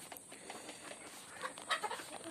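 Farm chickens clucking and calling in short bursts, soft at first and growing busier near the end, with a steady outdoor background hiss.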